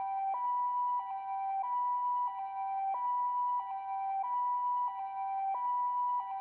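Ambulance siren in a PS2 video game, a steady two-tone wail repeating evenly at moderate volume with nothing else over it.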